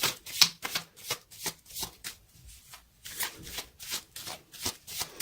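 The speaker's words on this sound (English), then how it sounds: "let's pull a few additional cards" Tarot cards are shuffled by hand in quick, repeated riffles and slides, a close, crisp series of papery bursts with brief pauses between them and no talking.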